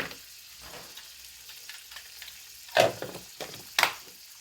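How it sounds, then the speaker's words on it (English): A steady sizzle of Spam frying in butter in a pan, with a couple of sharp louder crackles and pops near the end. "roll it around in that butter. You can hear it sizzle."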